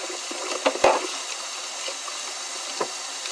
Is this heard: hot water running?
yes